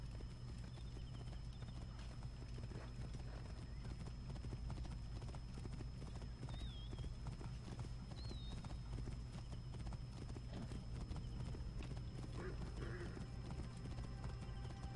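Horse hooves clip-clop at a steady gallop in Assassin's Creed Origins, continuous and fairly close throughout, with an occasional whinny and faint game ambience underneath.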